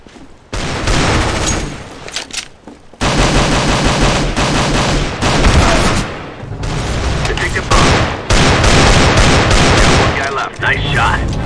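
Loud bursts of rapid automatic gunfire in Counter-Strike: Global Offensive, played on PS3 on the Lake map, come in sustained volleys with short gaps, dense and close, with game voices mixed in.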